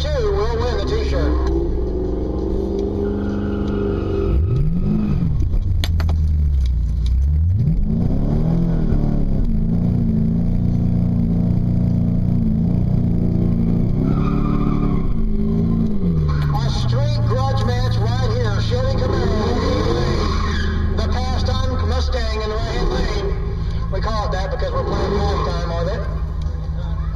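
A Camaro SS and a Mustang GT roar at a grudge drag race at Brainerd, engines revving and rising in pitch as they launch and pull away, loud under continuous talk from an announcer.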